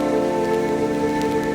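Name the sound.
rain falling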